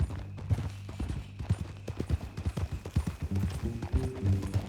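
Horse hooves clip-clopping at a steady walking rhythm in Red Dead Redemption 2, close and fairly loud, with a creak of tack and game sounds layered underneath.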